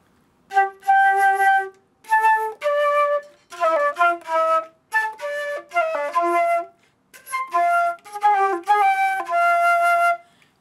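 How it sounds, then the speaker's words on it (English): A solo flute plays a lilting melody of clear, breathy tones in short phrases separated by brief pauses, close and unaccompanied. "When I play in the flute, it sounds like this."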